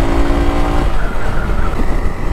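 KTM Duke motorcycle engine accelerating hard after a downshift, a loud close roar with a brief rising tone before settling into a rough, steady drone.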